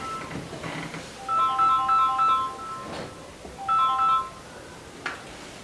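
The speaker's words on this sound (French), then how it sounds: "Téléphone." A telephone rings with an electronic melodic ringtone, two separate bursts of short beeping notes with a pause between, fairly close, over faint room noise and no talking.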